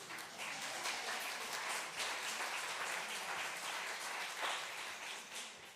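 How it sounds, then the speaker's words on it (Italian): Audience applause at an Italian literary prize ceremony, a broad wash of clapping at fairly low level that swells in waves and holds steady for several seconds without speech. "grazie degli applausi che non ho ancora meritato"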